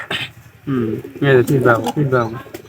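A healthy female pigeon coos close by, a few soft rolling coos in quick succession with short gaps between them.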